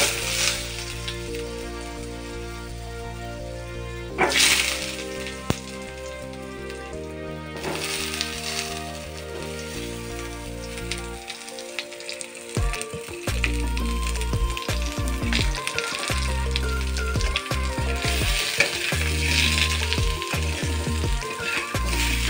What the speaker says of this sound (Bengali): তেলটা গরম হয়ে গেছে, এবার আলুগুলো ছেড়ে দেবো।